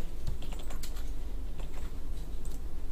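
Quick bursts of typing on a computer keyboard, including presses of the D key in NX10 3D modeling software, clatter close and crisp with irregular rhythm and no speech.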